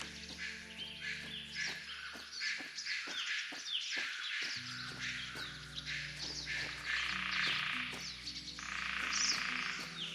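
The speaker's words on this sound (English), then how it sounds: "the birds are so loud during the day" Birds chirp and call busily in a daytime ambience from the Swordhaven: Iron Conspiracy video game, dense overlapping tweets layered over a steady low background drone, with no talk.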